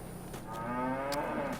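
Cattle in the Farming Simulator 22 video game give a drawn-out, clear moo that swells through the middle and fades, heard up close and alone without any talk.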